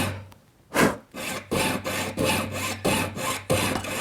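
A jeweller's piercing saw cuts metal with a steady back-and-forth rasp, about six rhythmic strokes close by, with no talking.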